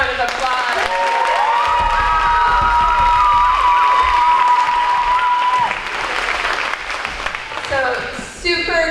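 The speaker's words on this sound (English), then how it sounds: "Let's give these guys a big round of applause." A school audience gives loud, sustained applause with cheering and children's shouts right after a student play about the American Revolution. A high whistle-like voice rises over the crowd before the noise thins at the end.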